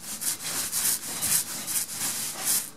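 Eclipse paint rolled onto drywall in a single coat, giving a rhythmic, close, scratchy rubbing in about eight even strokes, no talking.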